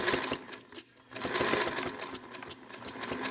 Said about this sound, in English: So push the little pedal, and sewing this way.